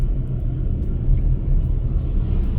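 A slow, light Daihatsu Mira kei car with 91,000 km driving, its engine giving a steady low rumble heard from inside the cabin, even and continuous without speech.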